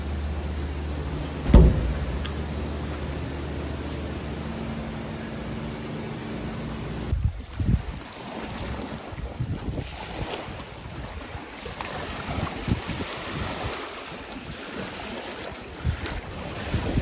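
A 110 hp jet jon boat runs across open sea water with a steady engine roar under wind buffeting and splashing waves, and one sharp knock near the start.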